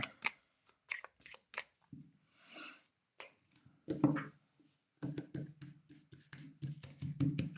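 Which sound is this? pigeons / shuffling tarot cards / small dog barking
shuffling tarot cards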